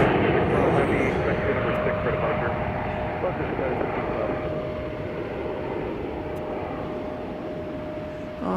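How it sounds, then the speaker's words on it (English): United Airlines airliner on the move at Chicago O'Hare, a loud broad engine roar that stays steady and slowly eases off, with a faint steady tone running through it. "This is United Airlines Flight 972 off to Brussels."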